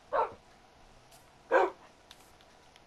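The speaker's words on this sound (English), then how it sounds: "My dogs." Dogs bark in two loud, close bursts about a second and a half apart, with a third starting at the very end, over a quiet room and no talk.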